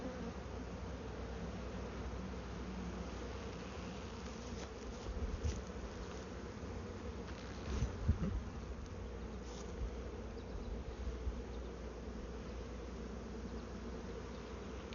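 A honeybee swarm being moved into a new hive fills the air with a dense, steady low buzz, close and continuous, with individual bees droning louder as they pass near.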